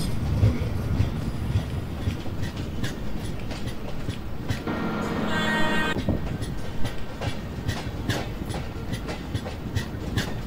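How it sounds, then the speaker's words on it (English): A simulated train shunts slowly into a siding in Open Rails/MSTS, with steady rumbling wheels, rhythmic clicking over rail joints and a brief tonal hum in the middle, continuous and fairly close throughout. "we are shunting Ambaram Santragachi Antyodaya Express into the siding"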